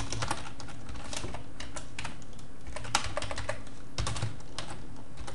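Steady typing on a computer keyboard while entering a short text string for C# programming, with quick irregular key clicks and occasional louder keystrokes, close and alone with no talk.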